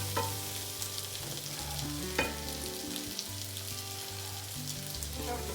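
Mushrooms and onion browning in a frying pan for veal escalopes marsala, a steady close crackling sizzle with occasional sharper pops and spatters, and a low kitchen hum underneath.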